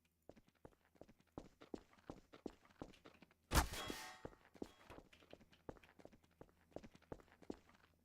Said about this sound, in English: Footstep sounds are super quiet in this game